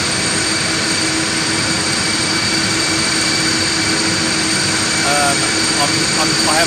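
Steady loud roar of Antonov An-124 freighter engines at Houston IAH airport, a continuous broadband drone with tonal whine, close and constant throughout.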